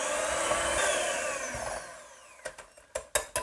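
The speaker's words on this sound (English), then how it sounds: "We don't need the mixer anymore." An electric mixer whirs loudly through wet biscuit ingredients, its whine sliding in pitch before it winds down and stops. A run of sharp, close knocks and clacks follows.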